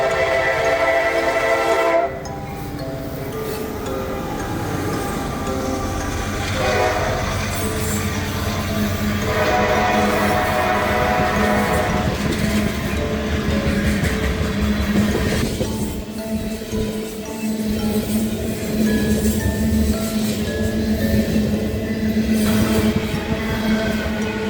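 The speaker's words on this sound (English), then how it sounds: "After P281, I would see CSX B705 with some Union Pacific power trailing." CSX B705 freight train with Union Pacific locomotives trailing rolls past loud and near, a long grinding rumble of wheels and cars with sustained horn tones and shifting metallic squeals throughout.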